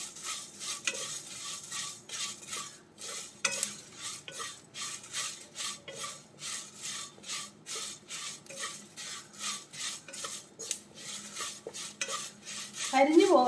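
Whole spices for beef chukka are dry roasted in a pan, a utensil stirring and scraping in a steady repeating rhythm with a light sizzle, close and continuous, no talk.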